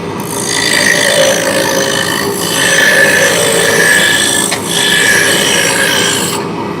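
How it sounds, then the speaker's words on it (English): A roughing gouge cuts a wooden shaft spinning on a lathe, bringing down its outer diameter, giving a steady close rasping scrape that continues through the whole clip with brief dips in loudness and no talk. "we're gonna start out with a roughing gouge, and we're going to bring the outer diameter down until this wrench will fit over the top."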